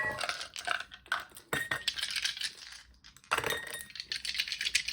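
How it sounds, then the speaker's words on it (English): Dice tumbling and clattering on a hard surface, a run of sharp clicks and rattles in several bursts with short pauses between, close and fairly loud with no speech. "Or roll some dice, rather."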